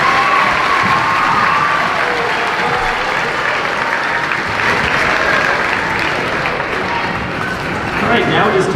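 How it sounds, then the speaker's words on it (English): Audience at a 5th grade moving-up ceremony applauds steadily, a dense, even wash of clapping with some cheering that holds at full strength throughout. "One more round of applause for our technology ambassadors"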